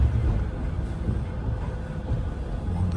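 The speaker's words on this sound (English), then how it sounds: "on the tram." Steady low rumble of a tram ride in Manchester, a continuous hum of rolling wheels and motor with no talk.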